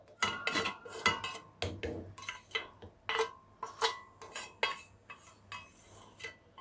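Roasted green chillies are pounded in a stone mortar, giving a steady run of sharp, close knocks at a brisk, slightly irregular pace with no talking.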